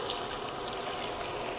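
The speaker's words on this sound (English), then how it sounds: "let's go ahead and start adding our liquid. I've got 1½ cups of chicken broth" Chicken broth is poured into a pan of onion and garlic, a steady, soft liquid rush without pause, faint and continuous.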